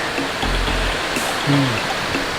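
Kao Fu waterfall in Ngao district, Thailand, rushes steadily with a broad, loud hiss of falling water, constant and close, with no voices.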